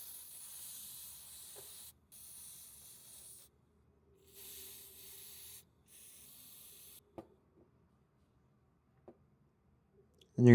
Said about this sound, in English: clean everything off with some brake cleaner and blow it off with compressed air